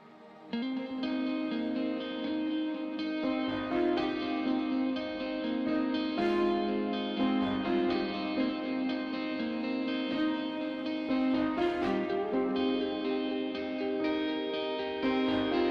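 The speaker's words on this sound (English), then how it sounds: "I'm going to bring up a bunch of reverb on this" A song intro plays, its lead guitar rhythms washed in heavy reverb. The sound is a continuous, dense, ringing texture with sustained tones that blur into one another, at a steady level throughout.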